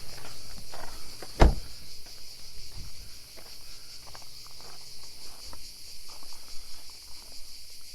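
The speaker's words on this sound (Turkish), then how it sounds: "Cırcır böcekleri oldukça gürültülü." Steady high-pitched insect chirring fills the background throughout, with a sharp knock partway in and a few faint footsteps or rustles.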